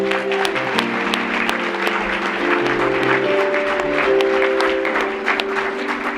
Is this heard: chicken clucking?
no